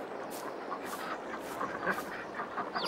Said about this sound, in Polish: A my tu mamy pisklaki już.